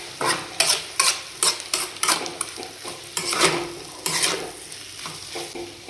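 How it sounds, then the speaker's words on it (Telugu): Egg roast with fresh coriander being stirred in a pan, a spoon scraping and clinking in quick irregular strokes over a low sizzle of frying, close and fairly loud with no voices. "కొత్తిమీర వేసిన తర్వాత మొత్తం కలిసేలాగా ఒకసారి కలుపుకుంటున్నా."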